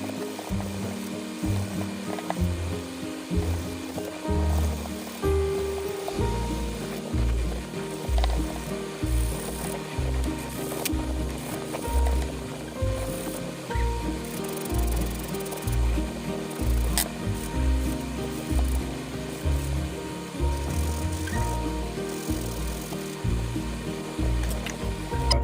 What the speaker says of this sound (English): So I'm going to use a sand block first